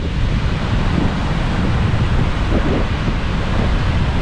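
Windy Baltic seaside at Šventoji: a steady roar of surf and waves breaking on the beach, heavy gusting wind buffeting the microphone throughout, loud and continuous with no voices.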